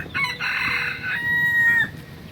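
Free-roaming Key West chickens, with a rooster delivering one loud, close cock-a-doodle-doo crow that rises and breaks off, followed by fainter clucking behind it.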